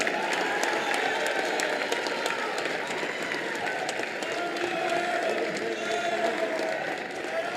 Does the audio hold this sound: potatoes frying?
no